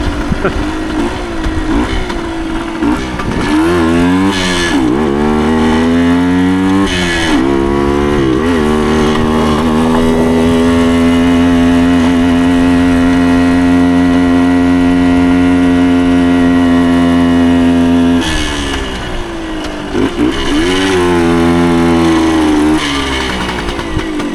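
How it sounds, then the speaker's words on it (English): A 1975 Suzuki TS125 Duster two-stroke trail motorcycle ridden on dirt trails, its loud engine droning steadily close by and revving up and down as it climbs to speed, then holding a long, even high-revving pitch. "There's the first trail ride with the TS125"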